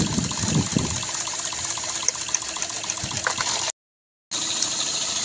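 Car engine idling steadily after a spark plug change, an even, close mechanical hum with a regular fine pulse, broken briefly by a gap of silence near the end.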